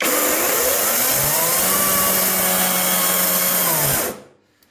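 An URSUS petrol chainsaw runs faster in second gear with a loud, steady, high-revving engine whine. Its pitch edges up slightly before the engine cuts off abruptly near the end.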